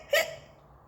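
A cartoon skeleton gives a single sharp, high hiccup, loud and close, that fades quickly into quiet.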